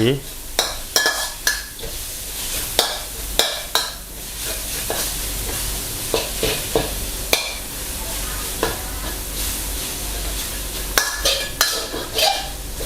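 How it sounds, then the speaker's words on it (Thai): Minced pork stir-fried in a pan without oil for a Thai kua kling with stink beans, giving steady close sizzling and scraping, broken by repeated sharp spatula clanks against the pan. "คั่วให้เนื้อหมูเปลี่ยนสี"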